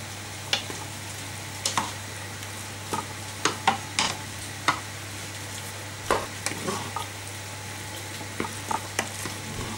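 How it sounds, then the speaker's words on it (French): A spoon stirs food in a pan on gentle heat, soft scraping strokes repeating at an irregular pace over a steady low hum and faint sizzle, close by with no voices. "On va remuer"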